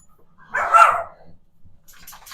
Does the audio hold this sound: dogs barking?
yes